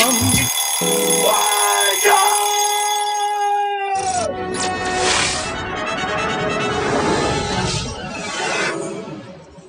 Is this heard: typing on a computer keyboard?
no